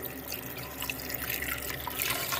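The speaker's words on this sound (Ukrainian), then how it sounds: "тепер додаємо чисту холодну воду" Cold water runs steadily from a tap into a pot over rinsed meat for aspic, a continuous close splashing rush with no voices.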